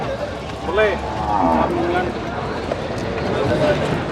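Cattle and buffaloes at the Erragadda buffalo market in Hyderabad giving short moos amid steady market noise, with people talking close by throughout.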